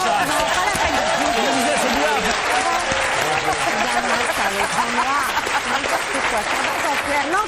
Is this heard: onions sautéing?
no